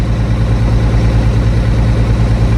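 An International Harvester 1586 tractor engine idles after a cold start, a loud, close, steady low rumble with an even pulsing throb and no other sounds.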